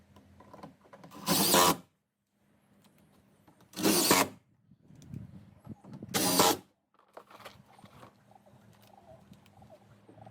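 Power drill driving screws into garden fence wood: three separate loud whirring bursts of about half a second each, spaced evenly, with quiet handling noise between.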